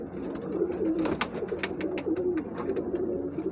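A female Bajri pigeon, paired with a golden male, coos in a steady, throaty rolling murmur that keeps going close by, with faint bird chatter in the background.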